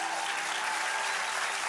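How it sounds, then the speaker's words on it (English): Audience at a church service event applauding as loudly as they can, a dense, steady wash of clapping from a large crowd that fills the whole short stretch without letup. "they're going to applaud as loud as they can"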